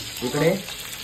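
A short burst of sizzling and crackling of Bombay duck fish frying in a hot pan, rising briefly then settling.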